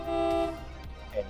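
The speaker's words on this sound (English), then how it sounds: "you can honk the horn" A mobile work platform gives a short, steady horn honk lasting about half a second, close and fairly loud, followed by quieter mechanical noise and a brief higher tone.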